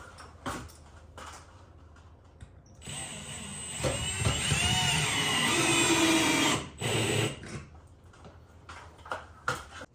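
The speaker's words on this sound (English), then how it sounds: "And I'm going to finish it off with the drill," A power drill whirs in a garage while driving a screw into a drop ceiling T-bar and tile frame, one sustained, fairly loud burst of about four seconds with a brief second spurt, surrounded by quieter clicks and handling noise.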